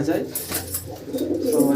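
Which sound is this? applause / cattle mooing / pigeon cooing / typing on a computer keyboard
pigeon cooing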